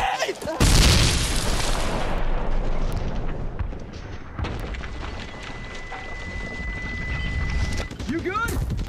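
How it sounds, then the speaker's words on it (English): A grenade blows up in a video game with a sudden loud boom, then a long rolling, crackling decay that fades over several seconds into quieter background noise. "Grenade!"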